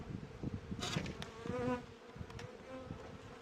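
Honey bees buzz in a loud, dense swarm as hive frames are shaken while colonies are united for winter, with a few sharper bursts of buzzing near the start.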